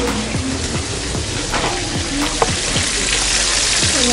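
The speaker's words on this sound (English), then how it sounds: "Got some more fish frying up." Catfish sizzles loudly in hot oil, a constant crackling spatter close by, with faint scraping and clinks now and then.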